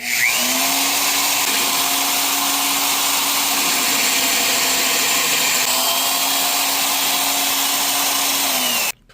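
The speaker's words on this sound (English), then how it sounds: "First off, you're going to drill out your hole." A magnetic drill motor whines steadily and loudly for about nine seconds, its pitch dipping slightly as it bites into metal, then cuts off abruptly.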